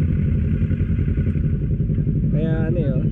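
A custom Kawasaki Vulcan motorcycle with an inline-two engine idles loudly up close, a steady throbbing rumble, with a brief rising rev near the end.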